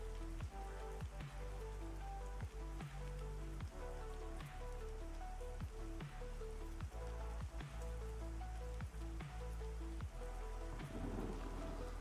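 Steady rain pours in the Veil of Azeris fantasy role-playing game, with repeated sharp thunder cracks and rumbles over a continuous wash of rainfall and faint tonal game music in the background.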